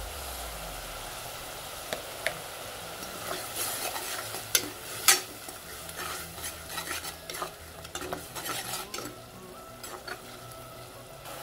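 Bitter gourd curd thokku is stirred and sautéed in a pan, a steady frying sizzle under repeated scraping stirs and occasional sharp utensil clinks against the pan, close and continuous throughout.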